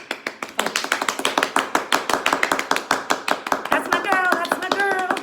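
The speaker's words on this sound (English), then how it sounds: "we need to clap for Lolly, for the NHS" A few people clap steadily at home for the NHS, close and rhythmic, a run of sharp hand claps before voices start talking over the end.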